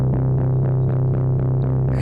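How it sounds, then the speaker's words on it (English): Simple arpeggiated synth bass line pulsing in quick, even repeated notes over a steady low tone, soft and filtered, playing alone. "It's just a very simple bass line that sounds like this."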